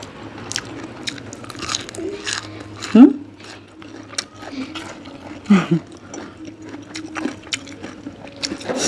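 Someone chews khanom jeen, Thai rice noodles, served with spicy tam sua salad and fresh shrimp, with a few soft bites and one or two sharper crunches. Muffled voices and room noise sit in the background.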